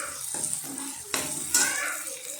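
Ginger-garlic paste for a prawn curry sizzles as it is sautéed in a pan, with scraping stirs and a couple of louder utensil strokes against the metal, close and fairly steady.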